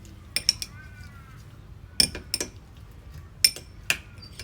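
Utensils clink and tap against a bowl while green papaya salad is tossed with bagoong shrimp paste sauce, several sharp, close knocks at irregular intervals with quiet gaps between.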